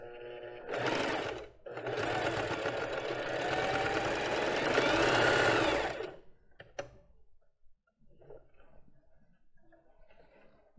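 A sewing machine runs a 1.5 straight stitch with a backstitch on the lace tip of a basic bra, a steady whirring burst for about a second, then a long continuous run of several seconds, followed by faint handling clicks.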